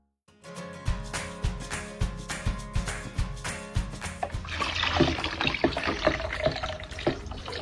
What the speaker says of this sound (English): I see the waterfall. You see the waterfall. You see the water.